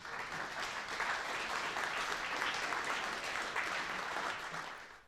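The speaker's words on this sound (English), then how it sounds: "Give all of yourselves a round of applause right now." Convention audience giving a round of applause, steady massed clapping at moderate volume that holds for several seconds before fading out at the end.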